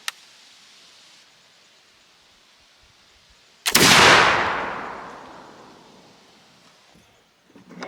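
A flintlock muzzleloader fired with a Skychief shot load gives one loud, close blast with a long decaying roar, preceded by a faint click and a quiet outdoor pause.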